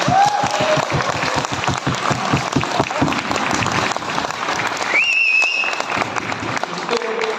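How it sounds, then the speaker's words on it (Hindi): Audience applause at a crypto coin business meeting in India, dense clapping through most of the stretch with what sounds like cheering or whistles over it and voices mixed in. "तो तालियों से स्वागत कर दें इस पर"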